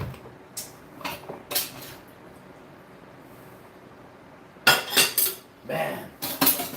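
Glass and cutlery clink in short, bright bursts of clattering, a few scattered knocks early on, a quiet stretch, then a denser run of clinks near the end.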